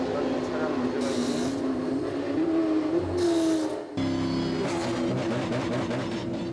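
Loud race car engine droning steadily during a 24-hour endurance race as the car struggles with a problem, with intermittent hissing bursts and a brief dip before the roar resumes; a voice talks over it.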